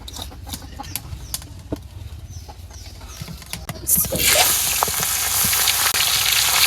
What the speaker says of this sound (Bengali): মাছ ভাজার লিগে কড়াইতে তেল দিয়ে দিলাম